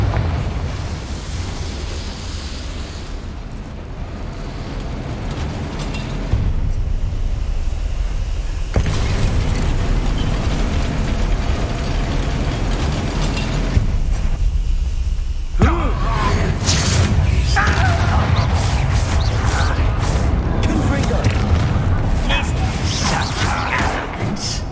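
Confringo spell blasts in the video game Hogwarts Legacy burst as loud booming explosions with crashing debris, mixed with game effects and a player's voice talking over the action.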